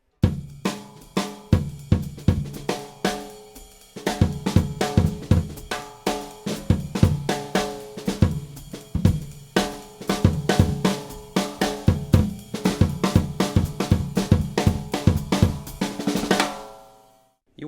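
A drum kit pounds loudly in a pop-style groove, with a booming bass drum and cracking snare dominating steady repeated hits, cymbals in the background, and no talking.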